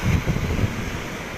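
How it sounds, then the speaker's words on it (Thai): Sea waves rise and surge at Samui as storm Pabuk arrives, a continuous low rumbling wash of surf with wind buffeting the microphone. "คลื่นเยอะขึ้นนะครับ"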